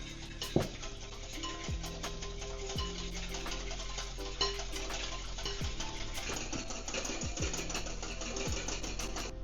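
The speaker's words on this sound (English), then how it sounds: "the reason we're going to whip up the eggs and the sugar together is to give it some air" An electric mixer whips eggs and sugar together for a pistachio lava cake, a steady mechanical whir running throughout with a few brief clunks of the bowl, close and fairly quiet.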